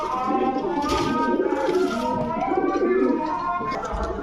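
High flyer pigeons coo in throaty, rolling bursts at close range, overlapping one another continuously, with some background chatter at a pigeon market.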